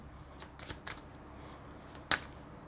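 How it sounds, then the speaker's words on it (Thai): Tarot cards being shuffled by hand during a reading, a few soft riffling swishes followed by a sharp card snap near the end, close and quiet with no voice over it. "สับไปสับมาได้แต่ใบเดิมสิบไม้เท้า"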